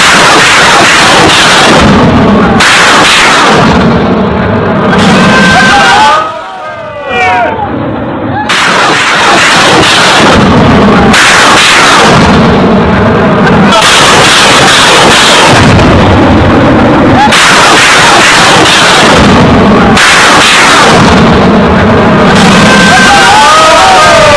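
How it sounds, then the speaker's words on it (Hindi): Pakistani artillery cannons fire shells in heavy, repeated booming blasts, loud and close, one after another with short gaps and a brief lull partway through. "पाकिस्तान ने तोपें लगा दी और तोपों से गोले दागे गए।"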